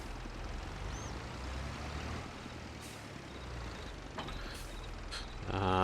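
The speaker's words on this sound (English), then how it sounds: "Grandma's tractor can handle this seeder." A tractor engine in Farming Simulator 22 drones steadily while it pulls a corn seeder, a low continuous rumble with a brief louder rise at the very end.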